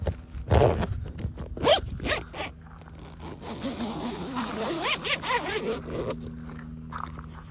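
Repeated zipper pulls on a rooftop bag of a GX470 overland vehicle, close and crisp, with rustling and handling of the heavy fabric bag in between.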